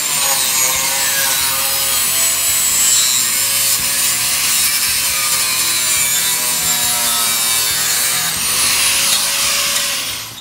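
A hand saw cuts straight across model railroad track in a continuous rapid back-and-forth rasp, close and bright, lasting about ten seconds before trailing off.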